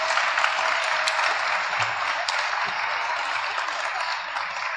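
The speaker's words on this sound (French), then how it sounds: "on peut applaudir Chloé et les élus du CMJ pour cette introduction" An audience at a New Year greetings ceremony in Dourges applauds Chloé and the municipal youth council members: a dense, steady wash of many hands clapping, loud and continuous for the whole stretch.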